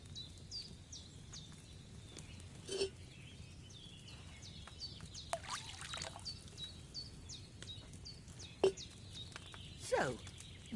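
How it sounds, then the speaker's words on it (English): Wine trickles and pours into a cauldron in the video game Kingdom Come Deliverance 2, a soft steady stream set against bright, repeated birdsong chirps and occasional clinks. "First, you have to pour the right base into the cauldron."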